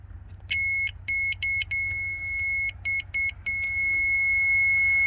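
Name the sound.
continuity tester beeping alarm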